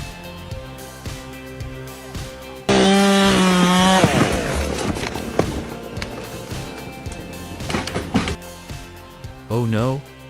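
A Husqvarna chainsaw cutting into a tree, its loud engine snarl jumping in abruptly and biting steadily for a couple of seconds, then trailing into rougher cutting noise. Talk runs throughout, and a brief final rev comes near the end.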